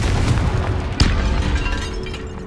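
The Confringo explosive spell goes off in Hogwarts Legacy as a loud, booming blast over a dense rumbling game soundscape, with one sharp burst standing out near the middle.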